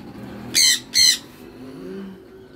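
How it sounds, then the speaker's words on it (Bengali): Two sharp, loud squawks in quick succession from caged golden finches, close by, followed by quiet with faint background chatter. "এই দেখুন দুখানা গোল্ডেন ফিঞ্চ, মেল ফিমেল করা আছে গোল্ডেন ফিঞ্চ গুলো।"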